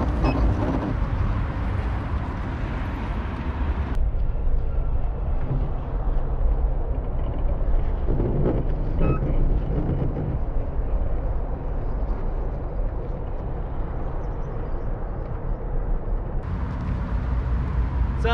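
Electric unicycle straining to climb a hill, a steady close motor whine with continuous rumble and wind noise that shifts in tone partway through, with no talking.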